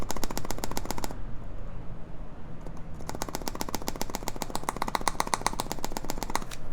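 Rapid, dense clacking of mechanical keyboard keys being typed in fast bursts, loud and close, with a brief pause in the middle before the typing resumes.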